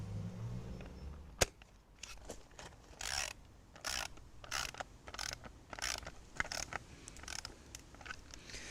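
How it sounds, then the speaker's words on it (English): A socket wrench tightens bolts on a Vegtrug planter leg, repeated bursts of ratcheting clicks in a close, quiet room, with a sharp metallic knock early on. "I'm just going to literally give the bolts a quick tighten with the socket set"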